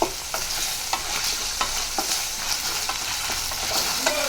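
Steady sizzling of noodles stir-frying in a pan, with repeated scraping strokes of a spatula stirring throughout, close and fairly loud.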